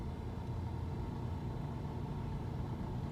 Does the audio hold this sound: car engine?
yes